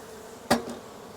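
Honey bees active around a hive being prepared for winter give a low buzz in the background, and one sharp knock or tap sounds partway through.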